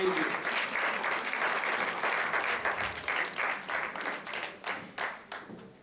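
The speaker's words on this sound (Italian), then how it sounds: "Questo applauso, ve lo ricordo, ve l'ho detto fino all'inizio, questo applauso va a voi" An audience in a theatre applauds warmly, a dense wash of clapping that holds steady and then thins into scattered, fading claps toward the end.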